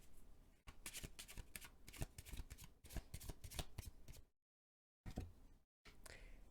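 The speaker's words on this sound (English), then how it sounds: "Let's get some cards representing Song Joong-ki's current energy." Tarot cards are shuffled close up in rapid papery riffles and snaps, broken by two short silent gaps before more shuffling and drawing, with no talking.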